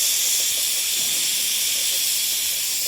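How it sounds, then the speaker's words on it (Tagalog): Steam hissing from a pressure cooker cooking beef ribs, a loud, steady, unbroken hiss held at the same level throughout. "Gigamitan akong pressure cooker. Hulato na lang nato na maluto siya"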